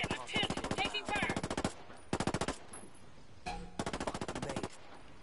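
Rapid automatic gunfire in a Ghost Recon tactical shooter, several loud sustained bursts of evenly spaced shots separated by short pauses, up close.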